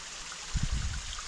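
A seasonal waterfall in Clifton Gorge, near Yellow Springs, pours in spring with a steady, soft rushing hiss. A few low thumps come partway through. No one speaks.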